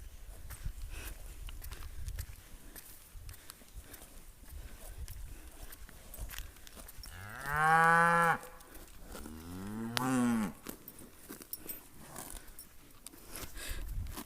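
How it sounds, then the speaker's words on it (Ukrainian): Two long, loud moos from cows being herded into a field ring out a couple of seconds apart over a quiet outdoor morning background with faint rustling and footsteps. "ми вже женемо корів у поле"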